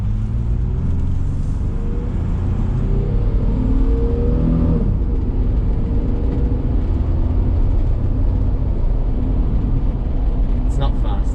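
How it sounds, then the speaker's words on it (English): A right-hand-drive Chevrolet Blazer with a 4.3 V6 pulls away from a standstill, its loud, steady engine drone climbing through rising harmonics, dipping at a shift, then climbing again close to the microphone. "Gonna do a quick acceleration from a standstill for you."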